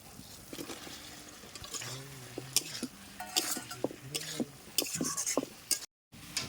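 Potato and pointed gourd go into a pan of cooked spice paste and are stirred. Soft sizzling runs under repeated scraping strokes of a spoon against the pan, with a brief voice in between.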